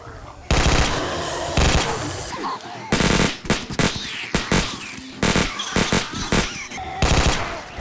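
Rapid bursts of automatic gunfire from a weapon in the video game 7 Days to Die ring out close and loud, in several separate volleys with short gaps between them.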